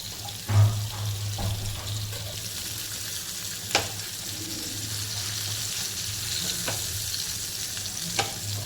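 Bangda mackerel fries in a pan, Konkani style, with a steady oily sizzle throughout, a few sharp pops and crackles, and an occasional clink of a utensil against the pan. No one speaks.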